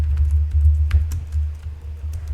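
Close, light keystrokes on a computer keyboard as code is typed, with a quick irregular rhythm over a low steady hum.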